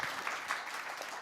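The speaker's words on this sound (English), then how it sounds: "let's give a big round of applause for our panelists" Audience applause for the panelists at the close of a transit and mobility leadership conference session, a steady wash of many hands clapping through the whole moment, fairly quiet and without talk.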